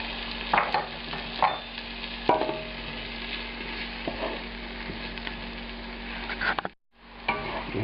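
Ginger, green chili and red chili flakes fry in a pan for a restaurant-style Thai duck curry, a steady close sizzle broken by several sharp scraping stirs and utensil knocks, with a brief dropout near the end.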